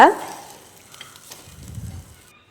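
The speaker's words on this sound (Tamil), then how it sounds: "ஸோ நல்லா வதக்கி விட்டுக்கோங்க" A soft sizzle of ingredients sautéing in oil for rasam, opening with a quick metallic clink and continuing quietly for a couple of seconds.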